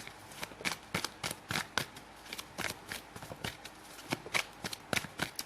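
Tarot cards shuffled and drawn by hand, a rapid run of crisp papery flicks and snaps repeating close up for several seconds with no talk over them.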